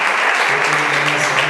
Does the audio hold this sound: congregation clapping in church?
yes